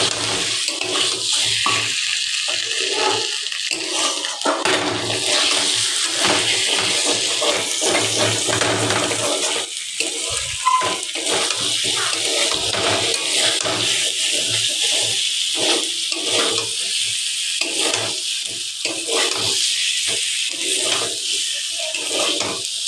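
Water pours steadily into a pot of potatoes, a loud continuous rushing and splashing that fills the whole stretch without pause, close by and with no talk.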